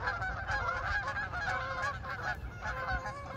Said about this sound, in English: The geese are leaving.